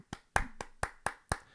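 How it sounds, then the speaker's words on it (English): Hands clapping together in a steady, quick rhythm, about six crisp, close claps evenly spaced with short gaps of quiet between them and no talking. "We're all clapping right now."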